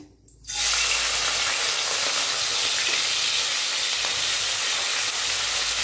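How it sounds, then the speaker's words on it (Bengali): Chopped, washed onions dropped into plenty of very hot oil, bursting into a loud, dense, continuous sizzle that holds steady after a short quiet start. "তেলে দিলাম কেটে ধুয়ে রাখা পেঁয়াজ।"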